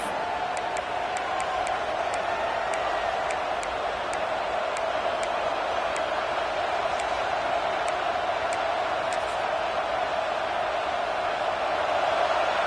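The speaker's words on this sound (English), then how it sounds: "this crowd is coming to help the defense" A large Ohio State football stadium crowd roars steadily during a tense late-game fourth down, a constant dense wash of voices with faint sharp ticks above it and no clear talk.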